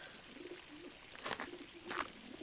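Doves coo softly in a hidden-object puzzle game, two low rounded calls at about one and two seconds over a faint hissy ambient bed, with no voices.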